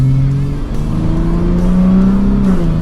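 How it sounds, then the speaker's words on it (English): A pickup truck's exhaust roars in sport mode under hard acceleration, a loud, continuous engine drone with rising tones heard from inside the cab. "I hear the exhaust roaring already."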